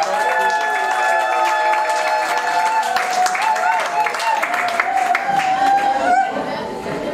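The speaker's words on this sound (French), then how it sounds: "Applaudissons." Crowd of the Bafang people at a grand ceremonial reception applauds and cheers loudly and steadily, with shouts, chatter and whistling or musical tones running over the clapping throughout.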